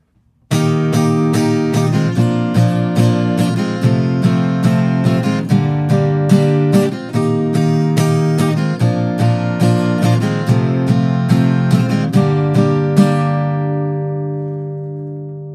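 Acoustic guitar strumming chords, a steady rhythm of bright strokes with clear pitched harmonics, played close and alone, ending on a long ringing chord that fades out.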